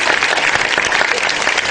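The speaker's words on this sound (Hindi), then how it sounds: "कुछ लोगों से जो तालियां बजाकर सारा माहौल खराब कर रहे हैं" A studio audience on a live television show claps in dense, steady applause, loud and close, sustained without pause for the whole stretch.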